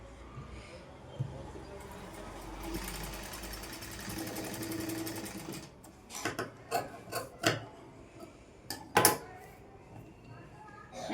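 A sewing machine stitches pieces of a cross-cut blouse in a steady mechanical run, then stops and gives way to scattered handling knocks and rustles of the fabric nearby.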